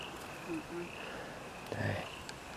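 Frogs croaking outdoors in the distance, a few short croaks and a deeper call heard over steady outdoor ambience.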